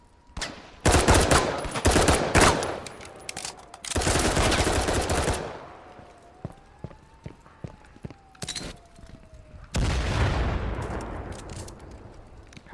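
Suppressing gunfire in Firewall, the tactical shooter, comes as several long, loud bursts of rapid automatic shots separated by short pauses, over background game noise.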